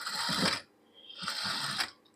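Sewing machine stitching fabric in two short running bursts with a brief pause between, close and fairly loud, a fast whirring mechanical chatter.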